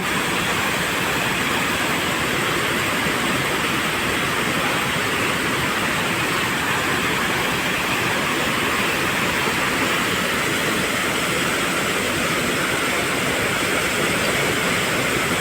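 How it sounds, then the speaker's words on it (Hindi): Water pours steadily from an outdoor fountain beside a hotel entrance in Bangkok, a continuous, fairly loud rushing hiss that holds even throughout with no talking. "पानी का वाटर फ्लो देखो कितना प्यारा।"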